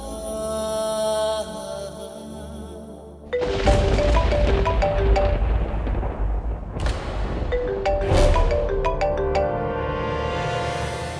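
A phone rings in a Hindi TV drama scene, a steady electronic ringtone for a few seconds before loud dramatic music with heavy booming hits takes over.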